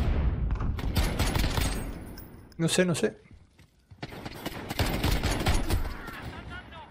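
Rapid bursts of gunfire in the video game Call of Duty: Modern Warfare, a 2v2 match played on PS4, rattle out repeatedly, mixed under someone talking in Spanish.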